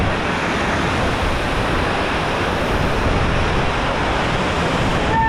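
The Kynrem Falls waterfall in Meghalaya crashes down from a great height, a loud, continuous broadband roar mixed with heavy wind buffeting the microphone.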